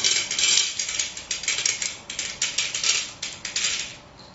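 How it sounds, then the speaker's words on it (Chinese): Small granular sample being spread onto a metal sample tray: a rapid series of light, crisp clicking and rattling impacts, close and fairly even, with no voices. "把样品均匀的放在样品盘上面"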